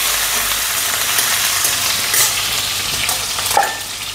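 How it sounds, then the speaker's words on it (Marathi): Cut green chillies stirred in a frying pan for shevaya upma give a loud, continuous close sizzle with a broad frying hiss, topped by occasional scraping and clinks of the spoon against the pan. "हिरवी मिरची कट केलेली टाकायले, थोडंसं हलवून घ्यायले"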